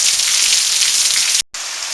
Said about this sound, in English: we got some rain, a little wind